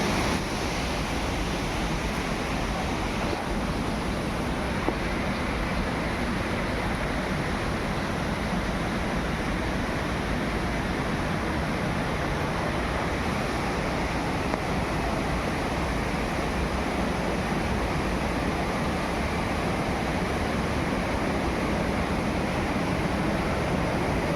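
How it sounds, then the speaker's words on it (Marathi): Waterfall beside Dhutpapeshwar temple in Rajapur, Ratnagiri, a continuous broadband roar of rushing water, steady and unbroken, with some wind buffeting and no voices. "तो बघा तिकडे पण एक आहे धबधबा आहे"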